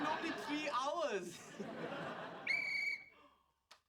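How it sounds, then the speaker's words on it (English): A 3D-printed plastic whistle gives one short, shrill blast, heard just after laughter and chatter in a sitcom scene. "We printed a whistle."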